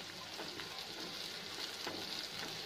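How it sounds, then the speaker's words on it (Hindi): Onions sautéing in a pan for mushroom Manchurian, giving a soft, steady sizzle with faint crackles throughout, quiet and close, with no voice. "बस इसे हल्का सा सौते करना है"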